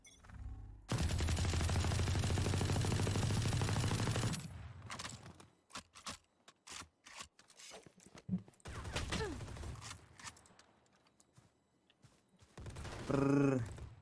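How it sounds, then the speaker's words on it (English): Automatic gunfire in a competitive 1v1 video game, a dense sustained burst of rapid shots for several seconds, followed by scattered sharper shots and clicks, with a player's voice chiming in near the end. "Gun go brr."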